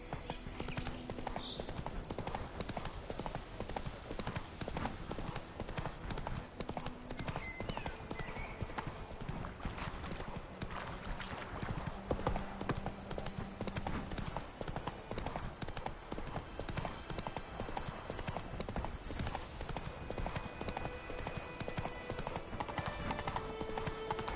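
Horse hooves clip-clopping at a steady walking rhythm while ridden in The Witcher 3 video game, with occasional snorts and whinnies over a busy game soundscape.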